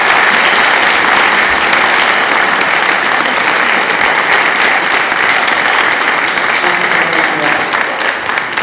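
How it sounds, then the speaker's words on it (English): A church congregation at a Sunday morning service applauds and cheers for Elise, loud sustained clapping from a large crowd filling the room and holding steady throughout, fading slightly at the end. "So let's give a massive cheer to Elise."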